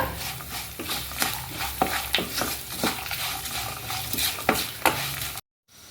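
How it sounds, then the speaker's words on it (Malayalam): A spoon stirs chilli powder into a protein-rich dish in a sizzling pan, with repeated scraping strokes and clinks over a constant frying hiss, close and clear, ending in abrupt silence. "അതും കൂടി ഇട്ട് കൊടുത്തിട്ട് നന്നായിട്ടൊന്ന് ഇളക്കുക."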